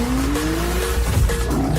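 Car tyres squeal in a drift, a loud sustained screech with rising whine and engine roar close up, played as a short sound effect with no talking over it.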